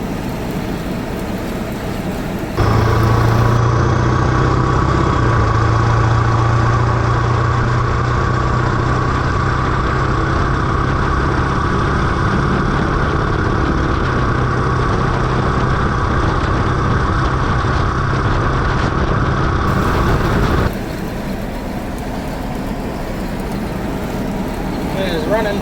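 A cheap older diesel truck engine runs steadily with a low, continuous drone for most of the clip, loud and close, as if heard from inside the cab while driving down the road.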